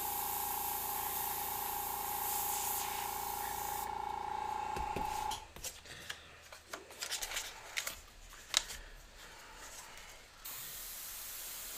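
A steady, airy hiss of an airbrush spraying runs for several seconds, then cuts off, followed by quieter scattered rustling and small knocks.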